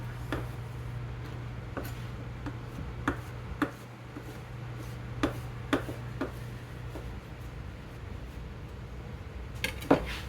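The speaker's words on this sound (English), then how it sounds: "Just gonna give this a good chop." Food chopped with a knife on a board in a home kitchen, a series of crisp, separate knocks at an irregular pace, close but fairly quiet over a low steady hum.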